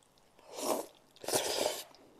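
Someone eats Ottogi Jjaslang jjajang cup ramen in two close, brief bursts of slurping and chewing, separated by a short quiet pause, with no talking.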